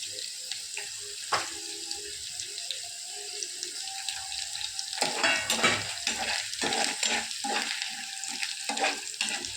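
Green chillies and cashew nuts sauté in a pan with a steady sizzle, broken by scraping stirs that pick up and grow busier in the second half, with no voices.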